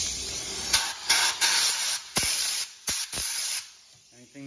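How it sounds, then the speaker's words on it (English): Compressed nitrogen is blasted through a furnace burner to clear it out, loud close hissing spray in several short bursts of varying length, with faint clanks between them. "we got our nitrogen hooked up here, this little blower, and we're just gonna blow this thing out"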